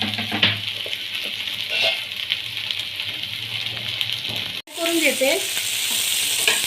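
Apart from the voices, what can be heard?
capsicum frying and being stirred in a pan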